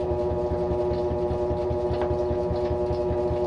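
A loaner washing machine spinning during its Quick Wash cycle, a steady droning hum with a low rhythmic churn that stays close and even throughout.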